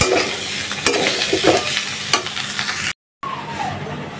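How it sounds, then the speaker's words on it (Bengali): Tengra fish fry in hot oil in a wok, a dense close sizzle with spattering crackles and brief stirring knocks, cut by a short gap of silence before the frying resumes; no one talks. "মাছগুলো কিন্তু প্রচুর ছিটে, মানে তেল ছিটে ভাজার সময়।"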